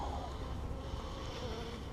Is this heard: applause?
no